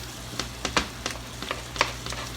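Mushrooms, cauliflower and green onions sizzle in a frying pan while being stirred, a constant soft fry broken by several sharp scraping strokes of the utensil, close and alone.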